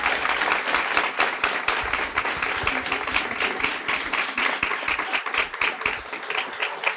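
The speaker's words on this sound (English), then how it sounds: "How about a warm round of applause for Anna and the team up there?" Audience applause at a guide dog school graduation ceremony, steady dense clapping from a crowd filling the room for the whole stretch, fairly loud and close with no talk over it.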